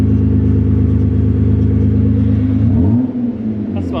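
BMW E36 ute with a freshly fixed T18 transmission, engine held at a steady, loud revving drone that drops off near the end into a lower idle rumble, heard close up.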